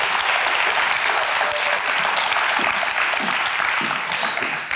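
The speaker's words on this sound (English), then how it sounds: "Give a large round of applause for them." Audience applause at a science slam event, dense and steady clapping from a large crowd that fills the whole stretch at a fairly loud level, easing slightly toward the end.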